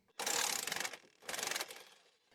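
A socket wrench ratchets off a U-bolt nut on a 2007 Club Car golf cart during a lift kit install, two quick bursts of rapid clicking close up, with a short pause between them.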